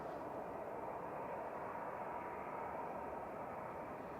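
A jet airliner taxiing out at Manchester Airport, a steady distant engine drone that holds even and unbroken throughout.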